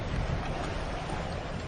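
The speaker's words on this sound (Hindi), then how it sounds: "कितनी तेज हवा चल रही है।" Strong wind in a cartoon, a loud continuous rushing whoosh with steady noisy texture throughout and no voices.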